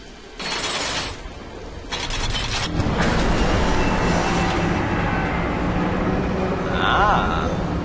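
A train in the video game Darksiders 2 rumbles and clatters along, its mechanical roar building and holding steady, with a faint whistle-like squeal near the end.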